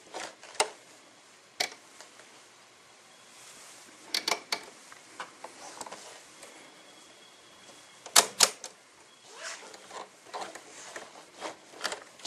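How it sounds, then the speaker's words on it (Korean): The handwheel of a Merrylock 2070 or 3080 overlock sewing machine is turned by hand, giving quiet, irregular mechanical clicks and ticks, with a few sharper knocks at intervals. "핸들을 돌려서, 핸들은 꼭 본인 앞으로 돌려주세요."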